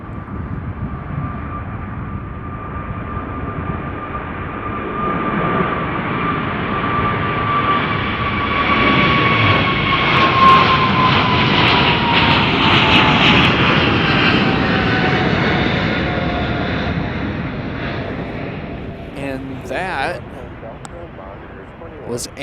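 An All Nippon Airways Boeing 777-300ER departs Chicago O'Hare for Tokyo Haneda at evening, its engine roar swelling to a loud peak mid-clip and slowly fading, with a steady whine riding over the rumble.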